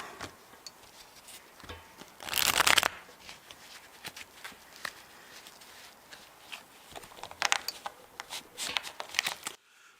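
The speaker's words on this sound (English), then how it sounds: "I'll shuffle a couple times." Crisp riffling bursts of a tarot deck being shuffled, with a long flurry early on and a couple more later, plus small taps and handling noises between.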